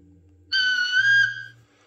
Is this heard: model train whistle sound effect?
yes